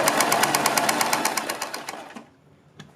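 A sewing machine stitches along the edge of fabric strips with a fast, even mechanical chatter of needle strokes for about two seconds, then stops, followed by a single short clack.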